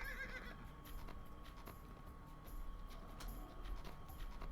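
A horse in a fantasy video game whinnies near the start, followed by scattered clip-clop hoofbeats over a low ambient background, with no voices.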